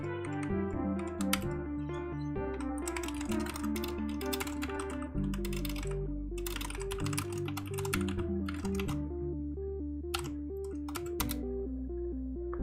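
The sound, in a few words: typing on a computer keyboard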